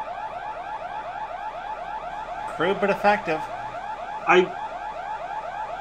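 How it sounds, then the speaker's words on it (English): An alarm in a building, meant to be a pulled fire alarm, wails in a fast repeating electronic sweep that loops steadily throughout while people talk and chuckle briefly over it. "You're gonna pull the fire alarm?"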